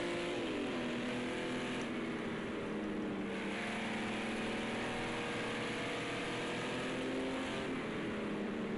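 Race cars lap the Barcelona National circuit in a racing video game, several engines droning and whining at once as they rise and fall in pitch, a steady layered roar filling the whole stretch.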